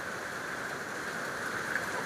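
Steady rain falls over a rice field during harvest, a soft, even hiss of drops continuing at a constant moderate level with no talk.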